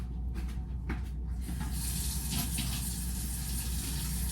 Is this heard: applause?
no